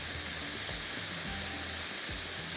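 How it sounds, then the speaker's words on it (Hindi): A pan of curd, red chili, salt, cumin, curry leaves and garlic frying for mutton do piyaza, giving a steady, dense, close sizzle with faint scrapes of a spoon stirring throughout. "इस तरह से चम्मच चलाते रहेगा,"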